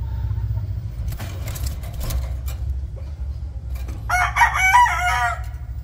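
Rooster crowing at a small backyard poultry pen, one clear, fairly close crow near the end over a low rumble of traffic, after some faint clucks and rustling.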